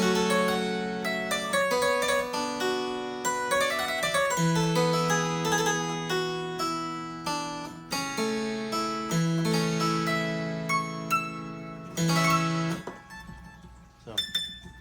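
Bright, plucked notes from a Neupert harpsichord's 4-foot string set in a lively passage, higher and thinner in tone, with crisp attacks and brief pauses between phrases, played close.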